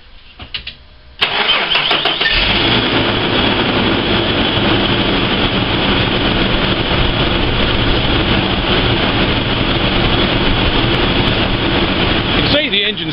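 A Ford Falcon car engine cranks briefly and catches, then settles into a loud, steady idle that runs unbroken for over ten seconds close to the microphone.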